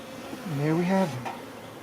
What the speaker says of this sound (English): a frame of bees in a hive